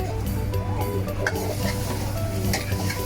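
Crispy pork stir-fried in a pan for holy basil pork, a continuous loud sizzle with quick, repeated scraping and tossing of a spatula.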